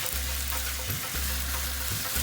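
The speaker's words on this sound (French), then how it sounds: "L'idée c'est de faire revenir le bœuf à feu très fort dans l'huile." Beef sizzles in oil over very high heat for a Thai basil beef dish, a loud continuous crackling fry with faint stirring bumps and no voices.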